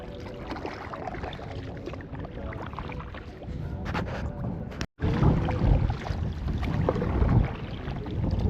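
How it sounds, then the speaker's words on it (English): Strong wind blasts across the microphone on a river in Ohio during a kayak trip, a loud roaring rush that drops out for a moment and then returns as strongly as before. "This wind is insane."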